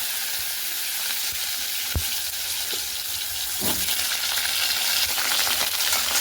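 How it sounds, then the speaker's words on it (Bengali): Potatoes frying in hot oil in a wok, giving a dense, continuous close sizzle, with a few sharp clinks and scrapes from stirring and no voices. "আলু ছেড়ে দিচ্ছি আলুটা একটু ভাজা ভাজা করে নিই"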